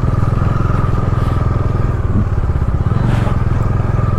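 A motorcycle rides along a road near Madanapalle, its engine giving a steady, close, low throbbing putter with slight wind and road clatter, holding an even pace throughout.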